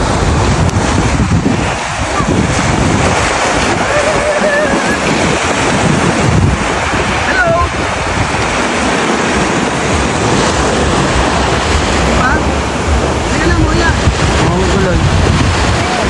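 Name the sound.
sea waves breaking on beach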